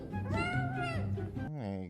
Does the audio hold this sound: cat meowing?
yes